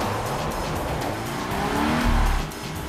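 A 2015 Scion FR-S sports coupe drives along, its engine note rising and swelling in a steady close drone from inside the car, with a brief tire scrub as it corners.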